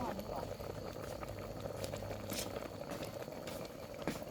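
Steady rolling bubbling of a pot of water at a full boil, cooking frogs and field crabs, continuous and close, with a brief faint clink partway through.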